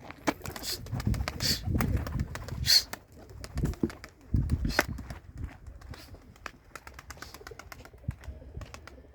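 Pigeons coo repeatedly at close range, with scattered rustling and wing sounds and people talking intermittently in the background.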